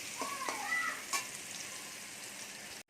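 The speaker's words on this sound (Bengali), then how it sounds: "এবার লাল লাল করে কচুগুলোকে ভেজে নিতে হবে" Taro pieces seasoned with salt and turmeric fry in oil, a soft continuous sizzle heard up close for a few seconds before cutting off abruptly.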